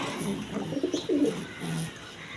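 Pigeons coo softly inside a breeder's cage where a hen sits on a clay nest pot. The low, throaty calls murmur close by and repeat loosely over a faint background hiss.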